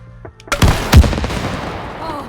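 Gunfire in the co-op video game It Takes Two, a couple of loud sharp shots near the start followed by a dense rattle of rapid shooting and booming effects that continues to the end.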